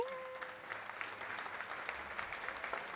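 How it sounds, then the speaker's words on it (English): Steady, faint applause from a small audience at the opening of a podcast episode, an even wash of clapping that holds for about three seconds with no voices over it. "Clap it up."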